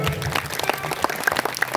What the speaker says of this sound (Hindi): एक बार कमेटी के लिए आप लोग जोरदार ताली बजाएं।